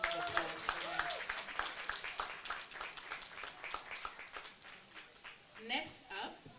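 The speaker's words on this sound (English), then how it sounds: "Can we just give another round of applause for her?" Audience applause at a women's session of a Christian conference, scattered claps fading unevenly over a few seconds beneath an amplified voice speaking through it, growing sparser toward the end.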